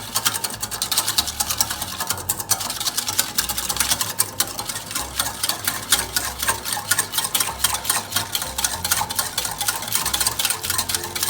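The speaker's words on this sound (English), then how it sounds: "Again, we mix it to form one homogeneous liquid." Lemon juice being whisked into liquid cake batter with a utensil, a fast, steady rhythmic clatter and swish against the bowl that continues without pause.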